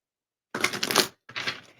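A deck of cards is shuffled twice in quick succession, two short riffling bursts heard up close against silence.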